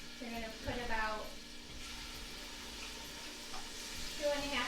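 Minced garlic frying in extra virgin olive oil in a pan, a steady soft sizzle running throughout with faint utensil stirring and clinks, under some light background talk.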